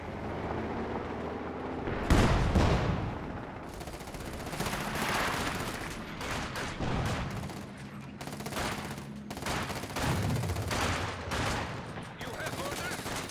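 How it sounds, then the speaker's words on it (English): Return gunfire during a Company of Heroes 2 World War II real-time strategy battle: bursts of rifle and machine-gun fire with a heavy blast near the start, loud crackling volleys at intervals, alongside game effects and a caster's voice. "there the return fire also connecting"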